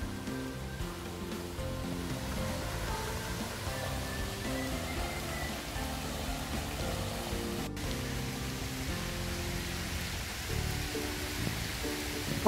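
Steady rain falls on a rainy day in London, a dense, even hiss of drops on surfaces that holds constant and fairly quiet from start to end.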